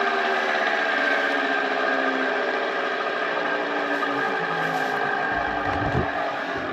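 A custom ride-on lawn mower engine runs steadily with no exhaust back pressure, giving a continuous, fairly loud, buzzy drone that holds at an even pitch, with a short dip near the end.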